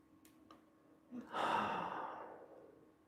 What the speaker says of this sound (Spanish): una vez que hemos terminado estos ciclos de respiración profunda